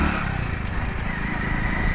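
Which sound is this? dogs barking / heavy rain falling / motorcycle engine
motorcycle engine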